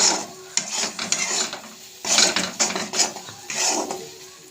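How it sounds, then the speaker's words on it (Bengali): Grated tomato fried with chili, cumin and coriander powder for Punjabi chicken is stirred in the pan, giving bursts of close metal scraping and clinking that come in uneven strokes with short pauses. "লঙ্কা, জিরে, ধনে গুঁড়ো দিয়ে এবার এটা আবার একটু ভাজবো।"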